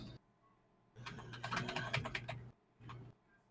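Quick clattering keystrokes on a computer keyboard, a dense burst of typing followed after a pause by a shorter flurry, close and fairly quiet.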